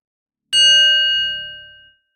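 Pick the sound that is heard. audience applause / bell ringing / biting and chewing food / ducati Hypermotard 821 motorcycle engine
bell ringing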